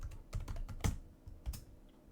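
Quiet keys clatter on a computer keyboard during work in Siemens NX11 CAD software: a short burst of irregular taps, close and soft, with no talking.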